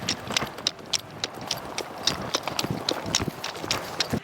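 Horse hooves clip-clop in a quick, uneven rhythm of sharp knocks on a Wyoming country property, fairly close and continuing steadily without talk.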